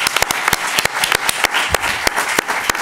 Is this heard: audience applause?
yes